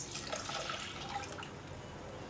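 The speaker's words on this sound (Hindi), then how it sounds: "पानी शामिल कर देती हूँ 2 गिलास।" Water gushes steadily into a cooking pot, two glasses poured for shaami kabab with salt, turmeric and whole spices, a continuous close splashing rush with no speech.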